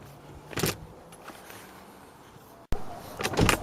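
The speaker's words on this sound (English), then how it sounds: "So let me get a torque wrench out." A torque wrench is pulled out and handled during a clock spring change on a Hyundai i20 MK1, giving brief metallic clatters and jangles near the start and again near the end, with quieter handling noise between and no talking.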